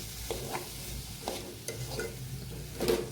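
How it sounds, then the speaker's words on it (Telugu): Chopped ridge gourd is stirred in a hot pan, a soft continuous sizzle with repeated scraping strokes of the spoon at an uneven pace, close by and without talk. "సో మొత్తం బీరకాయ అయితే వేసుకుని నీట్గా నేను కలుపుకుంటున్నాను"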